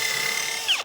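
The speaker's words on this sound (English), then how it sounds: "I'm pre-drilling" Power drill pre-drilling into a timber window frame during a rotten window repair: a short high whirring run that ends with a quick falling whine as the bit stops, close and loud.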